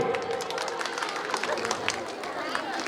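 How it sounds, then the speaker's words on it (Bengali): Applause from the audience at a school farewell ceremony in Malda, a steady wash of many hands clapping at close range, with crowd babble mixed in throughout. "জোরে হাততালি।"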